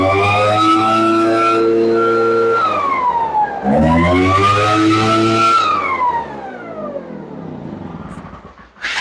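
A backpack leaf blower engine with a fuel leak runs loud and close, its pitch swelling as it revs up, dipping, then rising again before easing off toward the end.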